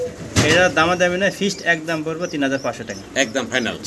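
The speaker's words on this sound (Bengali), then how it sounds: "ভিডিওতে আপনারা ডাক শুনছেন যে ঘুঘু পাখির" Doves coo at a bird market where pigeons are being sold. The soft, repeated calls sit under a man's close-up talk about prices, rising between his phrases.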